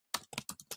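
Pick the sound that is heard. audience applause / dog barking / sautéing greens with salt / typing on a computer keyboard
typing on a computer keyboard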